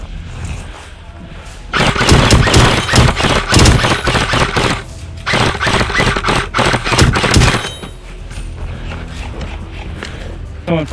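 Airsoft guns fire during a game at an abandoned sawmill, with rapid bursts of plastic-pellet shots clattering in dense volleys, then easing to scattered pops, loud and close with some echoing farther off.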